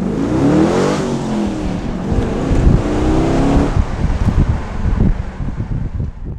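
A Gardner Douglas MK4 Cobra with a Euro chassis accelerates hard, its engine note rising through the gears in loud, close sweeps, with wind buffeting the microphone and no talking.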